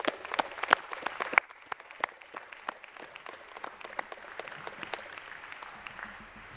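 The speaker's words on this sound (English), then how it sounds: "Please join me in applause to express our appreciation." Applause from an audience at a Princeton ceremony, scattered individual claps crisp and distinct at first, then merging into a softer, steady patter of many hands at moderate distance.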